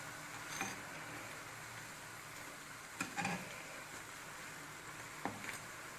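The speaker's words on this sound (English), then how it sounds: "Just fry it from each side nicely." Bread pakora stuffed with potato fries in hot oil, giving a soft steady sizzle with a few sharp clicks and crackles from the pan.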